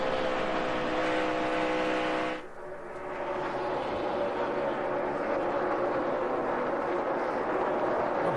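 NASCAR Xfinity-series stock cars at the 2012 Sam's Town 300 roar around the track, a loud sustained engine drone with layered tones that dips briefly, then swells again as the cars race on.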